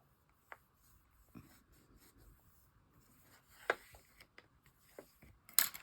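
A paper fold is creased by hand for a Frozen-themed scrapbook album, heard as soft, close rubbing and scraping strokes with a few sharper crackles of paper near the end, quiet and without talk.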